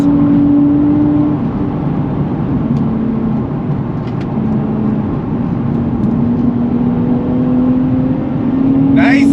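Engine of a 2024 Nissan Z Nismo on throttle rolls over track curbing, giving a loud sustained drone with a shifting pitch. Talk is heard over the engine note.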